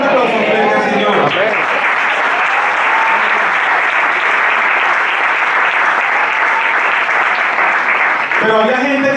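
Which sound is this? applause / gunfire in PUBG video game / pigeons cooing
applause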